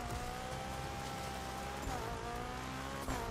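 Peugeot 205 engine in The Crew Motorfest racing game, a sustained buzzing drone at speed on a dirt track with a gentle pitch drop and a brief gear-change dip near the end, heard alone without speech.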